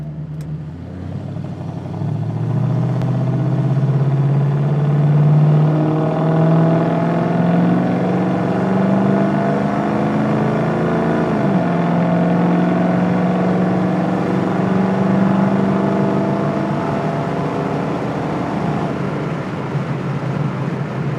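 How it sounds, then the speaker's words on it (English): A restored 1966 Ford Mustang Fastback with its 289 V8 pulls away from inside the cabin, a steady throaty drone rising in pitch through the gears with a brief dip mid-way, loud and continuous with no talk. "I can hear in this cabin that throaty little 289 is moving"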